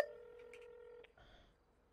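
A short telephone dialing tone sounds briefly, followed by faint button beeps and a fading electronic tail, quiet overall.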